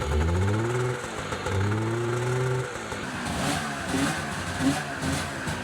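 A snowmobile that nearly burned down revs outdoors in cold weather, rising and falling engine pitch in a few close, loud pulls before settling to a rough idle, with no talk.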